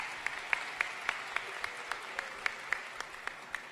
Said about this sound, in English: So everybody give him a round of applause too.